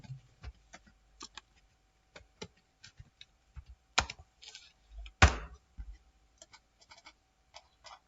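Keys clatter on a computer keyboard while someone types text into an MS Word document, with irregular light taps and a couple of louder clacks, close and alone with no talk.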